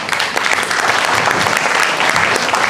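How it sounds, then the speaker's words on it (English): A loud, continuous round of applause fills a meeting hall as an audience of many hands claps at once in a dense wash with no pauses. "Let's give them all a big round of applause."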